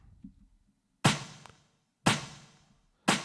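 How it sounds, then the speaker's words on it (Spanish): Three sharp snare drum hits played alone, evenly spaced about a second apart, each with a bright crack and a short reverberant tail. "Tenemos aquí el snare, que suena así solo."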